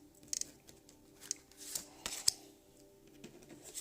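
Tarot cards are drawn one by one from a deck, giving soft papery snaps, slides and light taps, quiet and close, with no talking.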